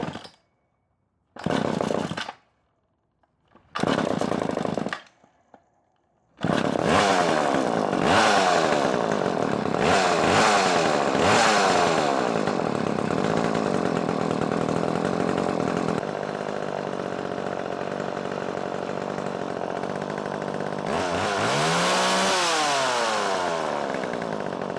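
Mastercraft chainsaw with freshly replaced fuel lines starting: a few short bursts of pulls and sputters separated by silence, then the engine catches and runs loud and steady, revving up near the end.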